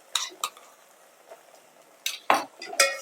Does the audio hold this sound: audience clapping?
no